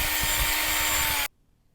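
A small 1.9 mm drill bit bores holes in a micro FPV drone frame, a loud, steady high whine for about a second before stopping abruptly.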